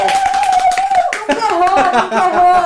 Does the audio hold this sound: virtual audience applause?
yes